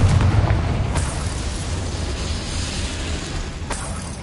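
A Confringo spell explosion in the video game Hogwarts Legacy: a loud, deep, rumbling blast at the start that slowly decays, with a second sharp burst near the end.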